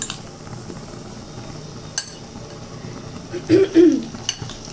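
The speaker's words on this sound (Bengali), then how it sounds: "এখন সেই মোচাটাকে দিয়ে দিচ্ছি" Boiled, drained banana flower (mocha) going into a cooking pot at home, with a few sharp metallic clinks and then a burst of soft scraping and stirring clatter near the end, close and fairly loud, with no talking.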